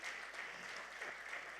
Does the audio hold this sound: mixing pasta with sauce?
no